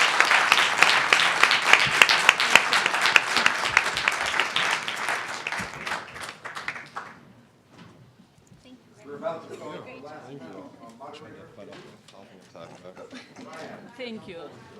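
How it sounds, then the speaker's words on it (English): An audience gives applause for a symposium's panelists, a loud dense round of clapping that fades out after about seven seconds, followed by someone speaking to the room. "Give them a nice round of applause."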